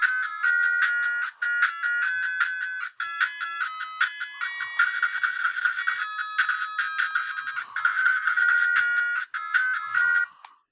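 Loud, bright 8-bit chiptune music from the Robocop video game on a Family Pocket handheld console plays without pause: rapid beeping melody lines over buzzy square-wave tones with brief breaks, close and steady, with no talking.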